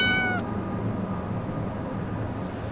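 A cat gives a short, clear meow at the start, then it is quiet apart from a steady low background hum.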